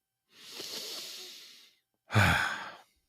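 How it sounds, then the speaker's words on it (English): A narrator's deep breath, heard alone and close: a long airy inhale followed by a shorter, stronger exhale. "Take a deep breath."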